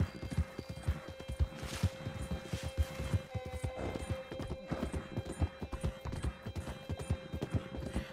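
Horse hooves clip-clop in a steady walking rhythm in Red Dead Redemption II, close and fairly distinct, with occasional snorts and a low game ambience underneath.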